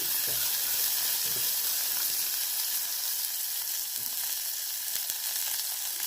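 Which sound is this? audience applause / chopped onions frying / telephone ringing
chopped onions frying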